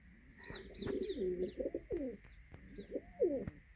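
Nearby pigeons coo in soft, throaty bursts, several calls overlapping against a faint steady hum and occasional light clicks.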